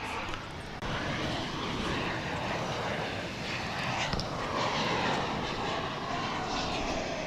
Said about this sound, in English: here is an American Airlines flight touching down from Austin, Texas, the capital of this state.